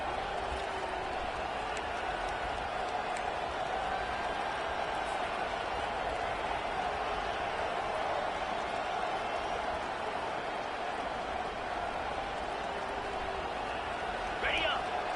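Stadium crowd at an American football game near the goal line, a dense, steady roar sustained throughout under a commentator talking.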